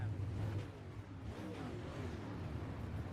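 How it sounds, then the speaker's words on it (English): A race car engine in the iRacing simulator revs under throttle, a low droning buzz with a slight rise at the start, faint and steady through a short stretch. "Listen to that throttle."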